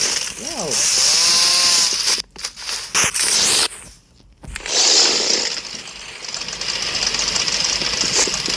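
A loud, buzzing chainsaw weapon with a cosmetic skin in the Roblox video game revs in bursts, cutting out briefly and resuming. A voice can be heard speaking over it.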